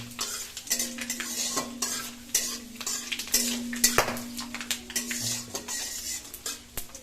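Panch phoron, dried red chillies with stems and bay leaves crackle and spit in hot oil, close and fairly loud, with sharp irregular pops and a metal spoon scraping the pan in quick strokes.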